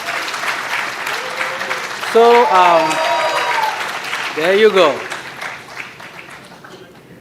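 A round of applause breaks out at a company's 25th anniversary celebration, sustained clapping from a large audience with someone speaking briefly over it.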